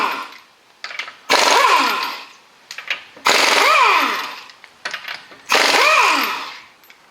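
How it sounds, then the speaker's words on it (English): Three short bursts from an air impact gun spinning 21mm lug nuts off the rear wheels of a Hyundai, each a loud rattling whir with a falling whine, separated by quieter pauses. "if you have air, use an impact gun"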